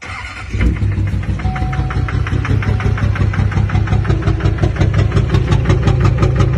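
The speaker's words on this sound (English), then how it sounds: "Like a tractor running. Fuel knock like crazy." A Duramax diesel truck engine runs loud and close, with a harsh, rapid rhythmic fuel knock clattering steadily over a low rumble, from stuck injectors.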